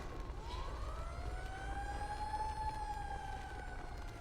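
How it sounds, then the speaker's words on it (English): An emergency siren from a video game, either an ambulance or a police car, wails in one slow rising and falling sweep, faint and distant over low rumbling ambience. "Is that an ambulance or a police car coming?"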